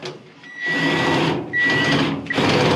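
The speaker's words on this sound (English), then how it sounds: "I'm going to tighten that clamp down" Three bursts of a motorized driver tightening the vent hose clamp on a Whirlpool dryer during a heating repair, each a buzzy whir lasting about a second with short gaps between, close and fairly loud.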